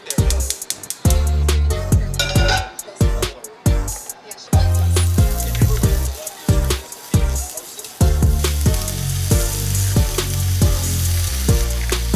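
Steak bites and four eggs frying in a hot pan, a loud continuous sizzle with scattered clinks and scrapes of stirring throughout.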